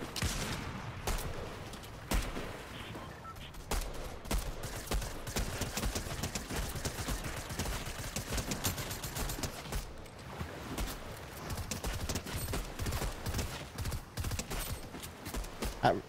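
Rapid bursts of submachine-gun fire crackle through the scene, sharp transient volleys repeating irregularly throughout at moderate distance, with no speech over them.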